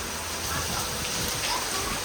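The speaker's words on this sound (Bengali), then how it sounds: "খুব বৃষ্টি পড়ছে এখন জোরে" Heavy rain falls steadily as a dense, constant wash of broadband hiss. It holds an even level for the whole stretch, with no talk audible.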